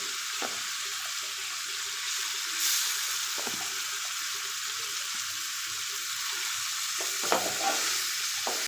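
Pabda fish frying in spice paste with salt, a steady hissing sizzle with a few soft stirring taps and scrapes spread across it.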